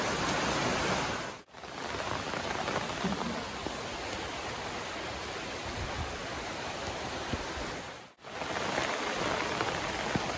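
Steady rain pours down in a dense, even hiss, briefly cutting out twice before resuming.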